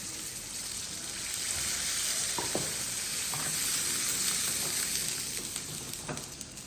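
Khoira fish sizzling and frying hard in a pan after water is poured in, a steady close crackling hiss with occasional stirring scrapes, no talking.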